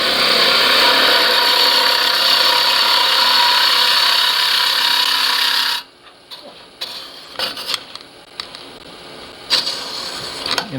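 A hand-made threading tool cuts into wood turning on a lathe, a loud, steady grinding rasp for nearly six seconds that stops abruptly, followed by quieter scattered knocks and scrapes.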